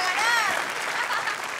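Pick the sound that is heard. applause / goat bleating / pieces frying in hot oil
applause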